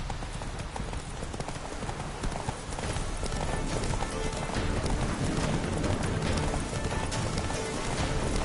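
Galloping horse hooves in The Witcher 3 video game, a steady rapid clip-clop rhythm running throughout under continuous game music and ambience.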